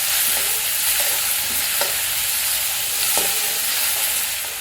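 Onion and tomato frying together in a pan for a green-chilli okra curry, a steady close sizzle broken by periodic scraping stirs, with no talk.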